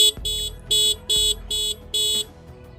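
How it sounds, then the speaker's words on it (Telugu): The horn of a 2022 TVS Raider 125 BS6 motorcycle sounds five short, evenly spaced electric beeps, loud and close, with faint handling clicks between them. "హారన్"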